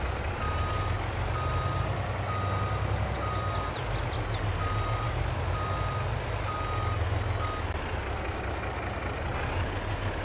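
A big semi truck in Farming Simulator 22 sounds its reversing beeps in an even, repeating pattern over a constant low diesel engine rumble, with a brief squeal partway through.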